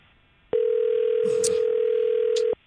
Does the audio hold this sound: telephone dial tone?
yes